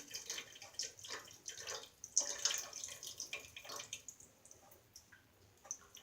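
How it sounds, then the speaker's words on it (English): Onion water poured into a pot of healing soup, heard as scattered drips and light splashes of liquid at close range, uneven and faint, with no voices. "after I put the onion water in"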